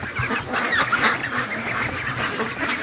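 A free-range duck quacks in short repeated calls near a pond, close and fairly faint over soft outdoor background noise, with no voices.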